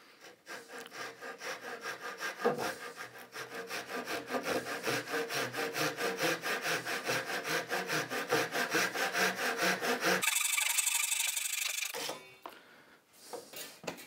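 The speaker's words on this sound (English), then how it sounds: "Hand saw, get them hacked back nicely." A hand saw cuts through wood in steady, rapid back-and-forth strokes, loud and close for about ten seconds, then stops, followed by a brief hiss and quieter handling noise.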